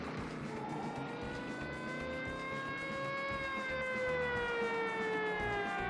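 Police car sirens wail in pursuit in the 1971 film Vanishing Point, a steady, rising and falling tone with engine rumble underneath, moderately loud and sustained throughout without talk.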